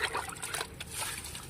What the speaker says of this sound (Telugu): ఇదిగో ప్రతి మొక్కకి ఇలాగే ఒక్కొక్క మగ్గుడు నీళ్ళు వేసేసుకోవాలి